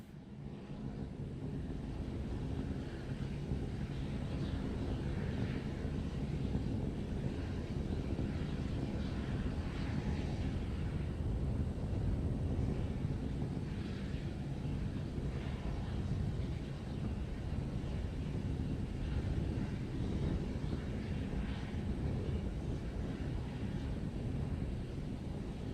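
The SpaceX Starship SN15 prototype rocket climbs in flight, heard as a steady, distant, broadband rumbling roar that holds evenly throughout with some wind-like texture.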